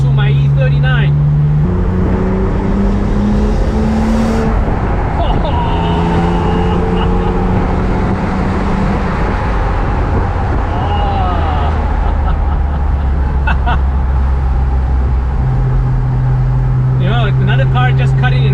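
A BMW M3 E46 Convertible's powerful engine roars from inside the cabin, revving up through gears with a deep, loud drone and shifting pitch.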